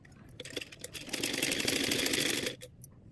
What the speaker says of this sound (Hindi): उसके बाद हम इसको पलट के मशीन चलाएंगे, पक्की सिलाई करेंगे